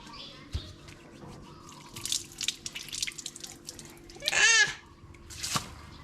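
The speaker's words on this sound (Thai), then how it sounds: "มาล้างมือด้วยไหม" Water runs from a tap as hands are washed, a steady splashing stream with dripping, while voices chatter and a child babbles over it.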